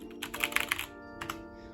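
Close, quick typing on a TKL mechanical keyboard with brown switches: a short flurry of soft clacky keystrokes, then a couple more isolated presses, with no talk.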